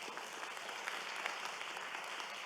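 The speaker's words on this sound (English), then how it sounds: "give yourselves a round of applause to begin with" Steady applause from a conference audience, a dense wash of many hands clapping at an even level throughout, with no voices standing out.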